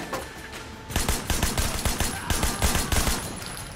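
Rapid machine gun fire in the action game Sleeping Dogs, a loud, steady stream of closely spaced shots rattling on without a break after a brief quieter lead-in.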